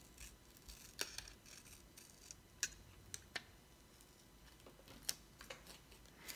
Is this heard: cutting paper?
yes